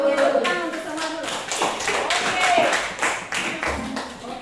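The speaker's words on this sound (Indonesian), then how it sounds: "Oke, tepuk tangan untuk semua dulu." A classroom of students claps together, a bright, uneven patter of many hands that swells and continues, with voices talking over it.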